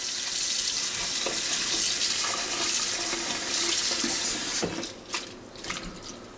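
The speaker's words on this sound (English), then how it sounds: "We're just going to wash these off." Picked orange honeysuckle flowers are rinsed in water at a kitchen sink, with running tap water and steady splashing that give way to a few sloshes and drips as the flowers are swirled around.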